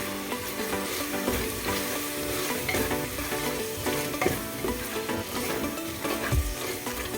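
Vegetable biryani masala stirred in a pot, with dense continuous scraping and clattering of the spoon over a bubbling sizzle, loud and close, and no talking.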